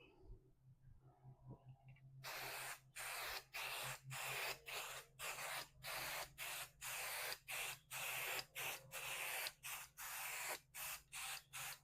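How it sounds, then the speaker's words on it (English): 505 spray adhesive hisses from an aerosol can in a steady series of short, even bursts with brief gaps, close and loud, laid down on fabric layers for quilt basting after a quiet start. "The spray adhesive that I'm using today is 505 spray"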